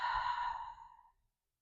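One deep, full exhale during a gentle stretch, a breathy sigh that starts strong and fades out over about a second, close up with no talk.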